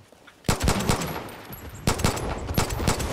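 Gunfire from a weapon in Far Cry New Dawn: two rapid automatic bursts, loud and close, the second starting after a short gap.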